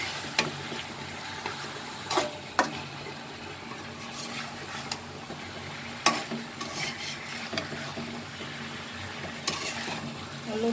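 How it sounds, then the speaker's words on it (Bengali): Pangas fish pieces and taro stolons being sautéed in a pan, a steady low sizzle broken by intermittent sharp scrapes and clicks of a utensil stirring against the pan, moderately quiet and close. "লতিটা একদম সুন্দর করে কষিয়ে নিচ্ছি এবং সাথে আমি পাঙ্গাস মাছের পিসগুলো কষিয়ে নিচ্ছি"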